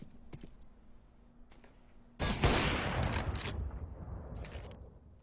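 Pistol gunfire from a Counter-Strike match on Dust 2: a few faint, sparse clicks early, then a dense burst of loud overlapping shots that trails off into rattling echoes, with no voices over it.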